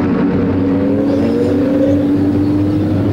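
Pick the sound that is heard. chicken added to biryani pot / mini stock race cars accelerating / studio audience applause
mini stock race cars accelerating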